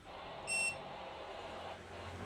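A single short electronic warning beep from an ANERN inverter, its battery running low, rings out clearly for about a quarter second over a quiet background hum.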